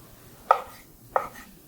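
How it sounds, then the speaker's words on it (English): A knife cutting through fresh mozzarella on a board for a panini, two crisp separate taps about half a second apart, close up and quiet, with no talking. "Next thing I want to do is slice my mozzarella."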